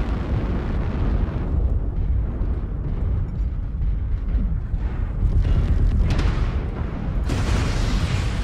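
An artillery strike in the video game MechWarrior Online lands as a loud, sustained rumbling barrage of explosions, dense low booms rolling continuously with a few sharper bursts toward the end.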